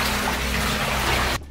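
Rushing, splashing water fills the scene as explorers wade knee-deep through flooded Paris catacombs, a steady loud wash that cuts off abruptly near the end, with no voices.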